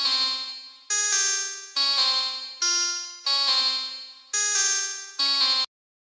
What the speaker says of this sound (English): So this is what it sounds like without Shaper Box.